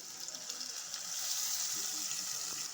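Ginger and garlic added to hot oil in a pan with softened onions give a steady, close, bright sizzle throughout, with no talk.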